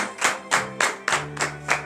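Rhythmic bursts of hand clapping, about six to seven beats in a steady pulse, from a congregation acclaiming Christ during a morning prayer service in Benin, with a low sustained tone beneath.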